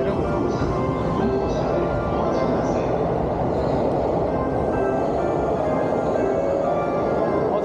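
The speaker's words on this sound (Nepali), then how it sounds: "ट्रेन आयो मेरो" A train pulls into a Tokyo station, giving a dense, continuous roar of rolling wheels and machinery that stays loud and even for several seconds, with a busy background wash.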